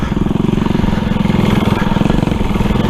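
A 6.5 horsepower go-kart engine runs steadily and loudly up close, a continuous buzzing drone with a rapid pulsing rhythm and no break.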